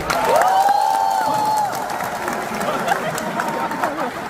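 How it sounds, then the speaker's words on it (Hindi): A comedy-show audience claps and cheers, with steady crowd noise and a whistle at the start, while voices chatter throughout. "एक बार सौरभ के लिए ताली बजा दो।"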